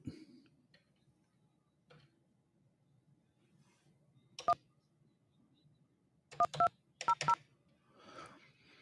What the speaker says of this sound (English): you can technically tell what the numbers are that I'm dialing